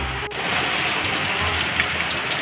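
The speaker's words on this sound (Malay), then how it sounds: "Hujan lagi guys." Rain pours steadily outdoors, a dense continuous hiss of drops hitting surfaces, loud and close with no voices over it.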